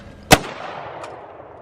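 A single sharp gunshot cracks close by at a shooting range, followed by a short decaying echo and a faint later tick against quiet background.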